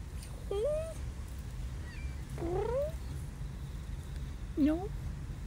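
Calico cat meowing three times, each a rising then falling mew spaced a couple of seconds apart, fairly close over a low background hum.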